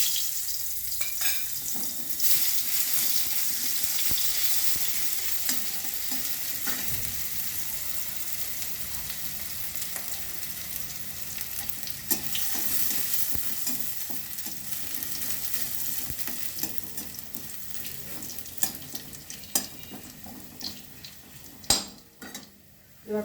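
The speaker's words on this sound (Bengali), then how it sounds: "রসুন ফোড়ন করলাম" Garlic sizzles in hot mustard oil as a tempering for a spinach ghonto. The frying hiss is steady and close, with occasional soft clinks of a utensil against the pan.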